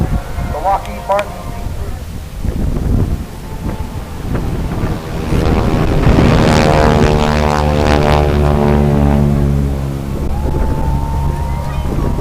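A Lockheed P-38 Lightning twin-engine propeller warbird passes at an airshow, its engine drone swelling loud and near, then fading, with heavy wind buffeting the microphone throughout.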